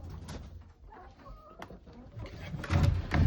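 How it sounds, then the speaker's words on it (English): A flock of chickens with roosters, including buff Brahmas, clucks and mutters in a coop, with scattered soft calls that grow into louder squawking near the end. "there sure is a lot of chickens"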